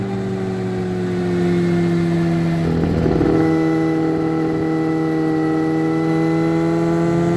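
1994 Kawasaki ZX6 Ninja being ridden, its four-cylinder engine holding a steady, loud tone that rises gradually in pitch as it pulls, with wind rush throughout and no talk.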